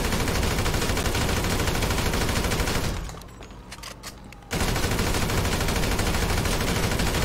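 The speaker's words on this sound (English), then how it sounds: "Nick's having a good old shootout" Sustained automatic assault rifle fire in a GTA V shootout, a dense, loud continuous rattle that stops for about a second and a half before resuming just as intensely.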